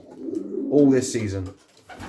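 A breeding cock pigeon cooing in a loft, one close, clear throaty coo rolling for about a second, with a voice nearby.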